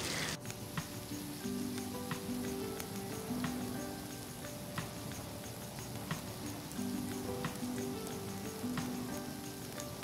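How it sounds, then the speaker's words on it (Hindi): Chicken frying over a campfire on a Himalayan trek, a steady soft sizzle with faint crackles and pops throughout, fairly quiet and with no talking. "यहाँ पे चिकन फ्राई हो रहा है"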